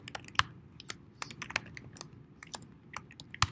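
Fingers tap on a computer keyboard in an uneven burst of sharp, close keystroke clicks, with no talking.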